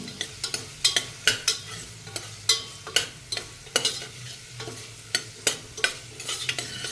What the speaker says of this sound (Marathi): कांदा हा असा मोठाच चिरून घ्यायचा आपण आणि त्याला सुद्धा आपण व्यवस्थित परतून घ्यायचं छानपैकी